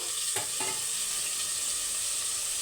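Curry leaves fry in hot oil in a pan, giving a steady, loud sizzle throughout, with a couple of brief stirring scrapes near the start.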